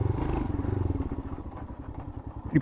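A Royal Enfield Himalayan motorcycle engine idles and revs nearby, a throbbing, pulsing low rumble with a slight clatter, ending in a small knock.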